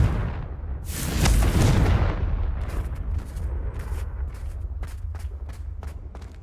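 A booming magical explosion from the Confringo blasting spell in the Hogwarts Legacy video game, a loud burst swelling and rolling away, followed by a string of short sharp cracks.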